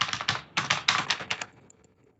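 Quick bursts of keystrokes on a computer keyboard as a chat message is typed, close and crisp, in rapid clusters that trail off into a few faint taps.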